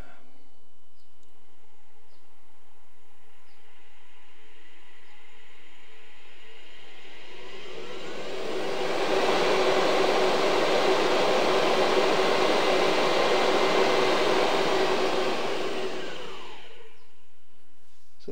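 An electric motor driven by Curtis AC 50 and 1238 controllers spins up to about 5,500 RPM. A rising whine swells into a loud, steady broadband roar, holds, then winds back down to a faint hum.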